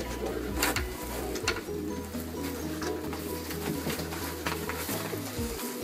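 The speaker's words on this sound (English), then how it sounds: "There's all kinds of birds flying out here." Pigeons coo repeatedly in low, soft calls over a steady outdoor background, with occasional brief chirps and rustles.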